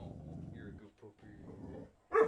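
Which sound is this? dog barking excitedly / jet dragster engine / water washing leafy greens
dog barking excitedly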